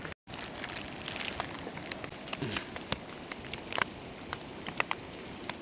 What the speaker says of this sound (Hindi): हल्की हल्की बारिश से हमारा स्वागत हो रहा है